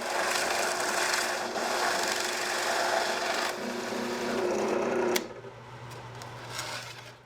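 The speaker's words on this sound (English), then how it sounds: "On the sides, I'll drill the 1-inch holes for the snare mechanisms." Drill boring 1-inch holes into the wooden sides of a cajon box drum, a loud grinding, rasping cut that drops to a quieter motor hum partway through before a sharp click at the end.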